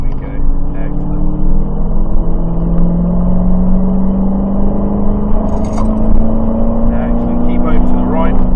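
A Dodge Challenger Hellcat accelerates on a driving ride-out, its engine drone climbing steadily in pitch. It holds close and loud throughout, with a voice talking over it.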